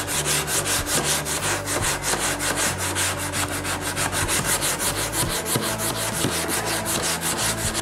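Wood on a Rickenbacker 620/12 guitar build is sanded by hand with rapid, steady back-and-forth rubbing strokes, loud and close, with no voices.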